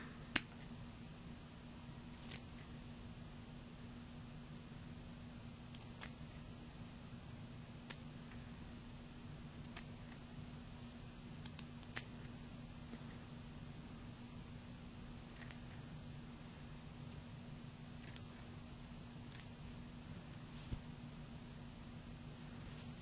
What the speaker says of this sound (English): now I'm going to take it, my scissors, trim up my excess Eco Wool